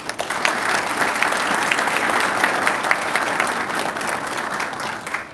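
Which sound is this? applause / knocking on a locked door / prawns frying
applause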